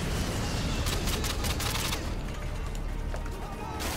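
UMP gunfire in the game Call of Duty MW2, a dense continuous stream of rapid shots and clatter lasting the whole stretch, loud and close, with a voice talking over it.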